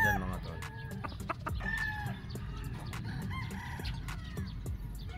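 Yellow-legged Sweater Gilmore Pico gamefowl roosters on a game farm give scattered crows and repeated sharp clucks at a fair distance, quiet and overlapping against a low background rumble.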